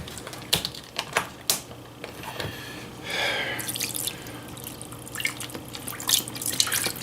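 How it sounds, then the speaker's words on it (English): Beef broth splashes into a slow cooker in a bright, trickling pour, with sharp drips and small clinks early on and a fuller gush in the middle, close and without talk. "next we are going to be adding the beef broth"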